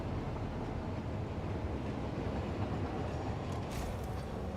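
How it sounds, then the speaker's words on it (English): A train rumbling past in the factory-building game Satisfactory, a steady low rolling roar of rail cars at moderate volume with no talking. "The train's coming."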